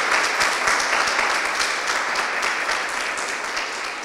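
Sustained audience applause fills a gallery at an MFA thesis exhibition artist talk. The clapping is dense and even and slowly fades toward the end, with no talking.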